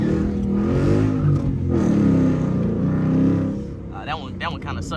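A 5.0 Mustang GT engine revs and pulls hard after a clutch pop on a road in traffic, loud and close, with the roar fading near the end and someone talking over it.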